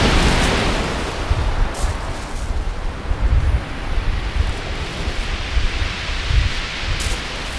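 Strong wind buffets an open shingle shore at Hythe beach in Kent on a bright moonlit evening, with a dense roaring rush of breaking waves and gusts, loud and continuous.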